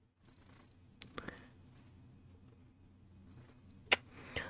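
A domestic cat purrs softly and steadily at close range, a low continuous rumble broken by a few brief clicks and handling knocks.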